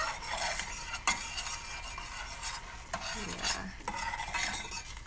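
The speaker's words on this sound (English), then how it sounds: "we'll check in with the quinoa and see how it's doing. Stir it around." A spoon stirs quinoa cooking in a pot on the stove for a blueberry quinoa bowl, giving a steady close scraping and rasping with faint sizzle; a brief spoken word interrupts once.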